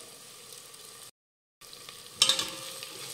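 Garam masala, coriander powder and byadgi chili powder sauté for brinjal rice with a soft, close sizzle and stirring. A brief silent gap breaks it, then a louder scraping burst follows.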